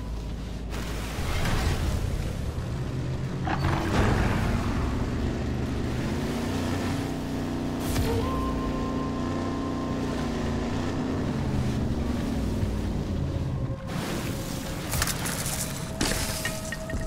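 Motorboat driven in the Modern Warfare Zombies video game, a steady engine drone with wind and water noise running continuously and loud, the pitch shifting slightly as it goes.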